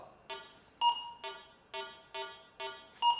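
Minelab GoFind entry-level metal detector sounding over iron: six short electronic beep tones in a steady rhythm, a few pitched higher than the rest, clear and close with no talking.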